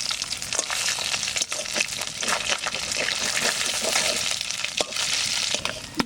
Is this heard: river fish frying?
yes